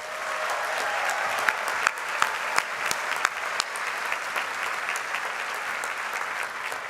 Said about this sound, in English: we welcome your applause for the MA and BA MA class of